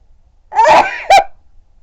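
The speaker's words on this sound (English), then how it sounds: "I feel a sneeze coming on" A single loud sneeze up close, a drawn-out breathy burst followed by a short, sharper second blast, with silence around it.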